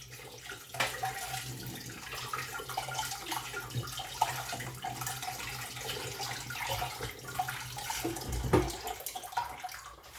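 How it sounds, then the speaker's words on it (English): Tap water runs steadily into a sink as raw chicken is rinsed under it, a continuous close splashing wash with a few louder surges, no talking. "what I'm going to do is to rinse them"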